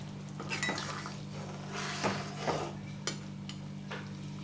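A metal lid set onto a cooking pot of fish and potato curry clanks against the rim in several sharp metallic clinks and knocks, close and fairly quiet, with no one speaking.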